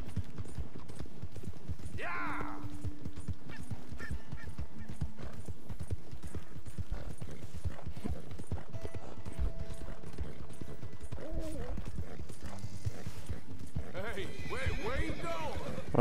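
Horse hooves clip-clop in a steady, dense rhythm throughout in the video game Red Dead Redemption 2, with a neigh and someone speaking over the hoofbeats.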